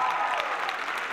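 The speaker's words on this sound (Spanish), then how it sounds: "así que bien fuerte ese aplauso" A crowd at a street dance show for children claps and cheers in a brief, steady, dense burst of applause.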